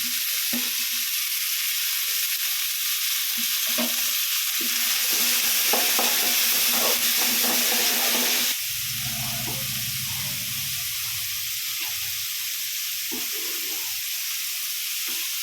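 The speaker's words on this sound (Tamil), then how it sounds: "தக்காளி போடுறோம். இந்த பச்சை மிளகாயும் ஒரு பிடி போடுறோம்." Tomatoes and a handful of green chillies fry in a pan, a close sizzling hiss broken by scraping, stirring knocks and spoon taps.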